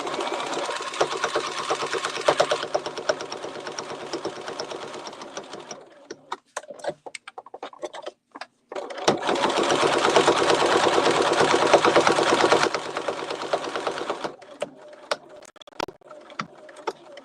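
Sewing machine stitching fabric along a drawn line, running in loud steady bursts with a pause between them filled by short clicks and handling noises, then starting again before fading to light taps.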